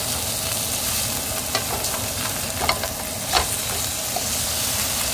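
A hamburger patty frying in a dry pan without oil just after being flipped, giving a loud, even, close sizzle with a few brief clicks and pops, alone with no talk.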